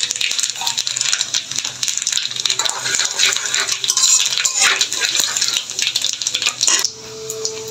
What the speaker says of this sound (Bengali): এখানে 5 ফোড়ন দিয়ে দিচ্ছি